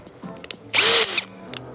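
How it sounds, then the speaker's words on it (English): A power drill bores out an existing hole through gel coat on a Grady White Spirit boat hull, a sharp, loud high-pitched whine lasting about half a second amid quieter clicks and handling noise. "when drilling a hole into gel coat"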